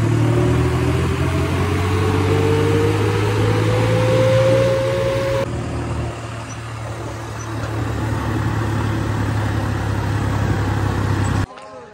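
A tractor engine drones steadily while driving toward Gurdwara Sehra Sahib, a low, heavy hum that shifts in tone midway and cuts off abruptly near the end.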